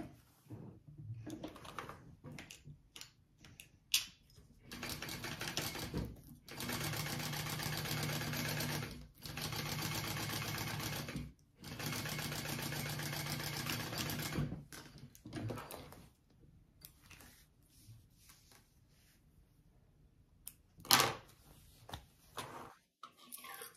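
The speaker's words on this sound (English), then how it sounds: "we're gonna sew that at the seam allowance mentioned in the pattern" A sewing machine stitches a bag seam at the pattern's seam allowance, running in several steady bursts of a few seconds each, separated by pauses with light handling clicks, fairly close and without talk.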